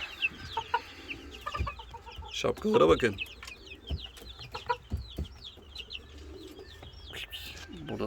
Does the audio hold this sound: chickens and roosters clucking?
yes